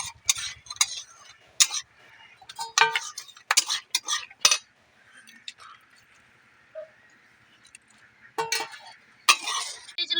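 Semolina is stirred and roasted in a pan for a sweet pitha, giving irregular metallic scrapes and clinks of a spoon against the pan, with quiet gaps and a voice talking between them.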